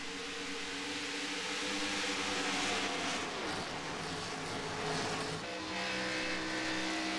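Race cars in an iRacing oval event at Las Vegas drone continuously at a fairly faint level. Engine tones rise and shift as the pack runs through the turns, with no talk.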